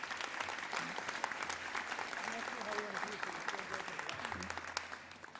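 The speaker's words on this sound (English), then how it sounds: "let's give those girls a round of applause" Audience at a girls' high school awards ceremony claps steadily for award winners, a dense sustained applause heard from a distance with faint voices mixed underneath.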